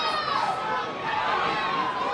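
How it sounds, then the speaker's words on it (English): A boxing crowd chants for Holly Holm, a loud, continuous roar of many voices filling the arena with rhythmic shouting. "there goes the crowd, starting with the Holly chants"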